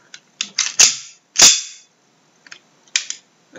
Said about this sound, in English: the slide sounds pretty good. I actually like the sound it makes.